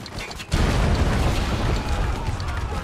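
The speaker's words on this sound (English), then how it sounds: "Loading mortar." A heavy mortar blast in the war shooter Spec Ops: The Line erupts suddenly after a short lull, then rolls into a loud, sustained low rumble and debris roar.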